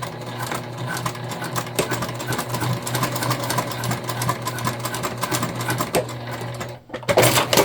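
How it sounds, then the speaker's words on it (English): A sewing machine stitches a tote bag's lining to its exterior along the seam allowance, running steadily and fairly close for most of the stretch before a brief pause and a louder burst at the end. "on one side we're going to stitch them together at the seam allowance given in the pattern"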